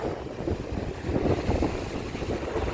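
Waves wash against the shore at Valinokkam, a fishing village coast in Tamil Nadu, at evening, with steady wind buffeting the microphone in a continuous low rumble and no voices.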